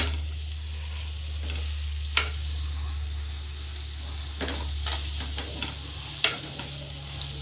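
Ingredients for manathakkali kuzhambu are sautéed in a pan, giving a soft, constant sizzle under a low hum, with a few sharp clicks from stirring.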